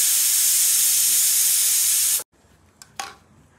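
Steam from a pressure cooker that has already whistled several times vents in a loud, continuous roaring hiss, then stops abruptly, followed by near silence and a couple of faint clicks.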